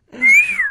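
A man whistles in imitation of a pressure cooker's whistle in a Tamil comedy scene: a single rising then falling shrill tone, loud and close, lasting under a second with no talk over it.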